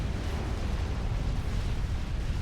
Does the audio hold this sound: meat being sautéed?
no